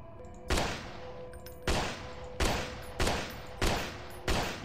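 Six loud, sharp gunshot bursts ring out at uneven intervals in a horror shooter game, each with a quick decaying tail, the gaps between them quiet.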